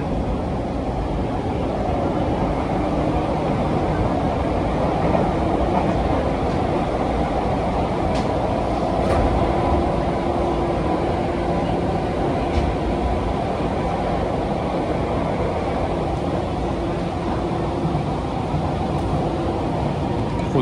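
A Seibu Tamagawa Line train departs Musashi-Sakai and rolls steadily along the rails with a continuous rumbling roar and faint clicks of wheels over track joints, loud and close throughout.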